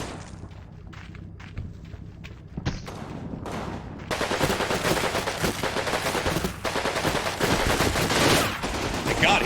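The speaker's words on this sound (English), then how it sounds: "He's gonna get shot at." Rapid bursts of rifle and machine-gun fire in the WWII strategy game Combat Mission Normandy, starting as scattered cracks and building into dense, continuous volleys that sound fairly close.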